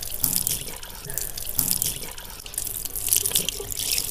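Tap water runs steadily into a basin during ablution rinsing, a continuous close splashing hiss with small surges and no speech.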